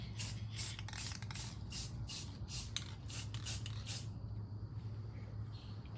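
Gold spray paint hissing from an aerosol can as a home decor piece is coated, in short repeated bursts over a steady low hum, faint and close.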